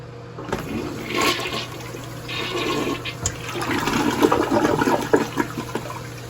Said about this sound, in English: let's give this bad boy a flush